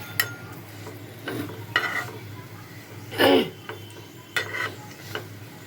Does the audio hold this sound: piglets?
no